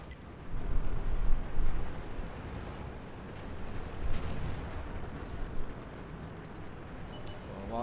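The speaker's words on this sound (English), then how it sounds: "while this guy's shooting him here" Gunfire in a video game comes as heavy, muffled bursts and rumbling booms over a dense, continuous roar, swelling and fading through the stretch.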